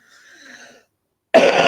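One harsh, loud cough from a chest infection bursts out close to the microphone after a faint murmur and a brief silence.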